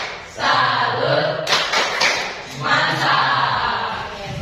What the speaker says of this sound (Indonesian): Oke, semuanya tepuk salut.